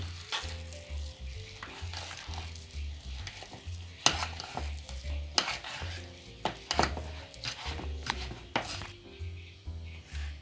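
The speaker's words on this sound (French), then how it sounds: "vous rajoutez la farine en 2 fois pour bien mélanger" Flour being stirred into a pan mixture while making giant stuffed fries with sausage and cheese, heard as steady scraping and stirring with soft sizzling and a few clinks of utensil on pan, close and continuous, with no talking.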